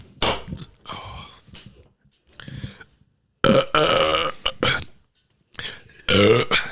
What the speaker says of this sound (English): Your burp went a little limp.